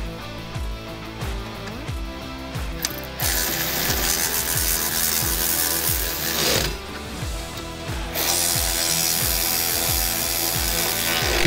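A ratchet wrench tightens nylon lock nuts onto carriage bolts, fastening a metal strap over a rubber snow flap on a Snowrator plow. Rapid bursts of crisp pawl clicks repeat in a steady rhythm, close up, with no voices.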